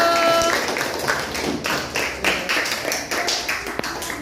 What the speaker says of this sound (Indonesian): Beri aplaus kelompok yang sudah maju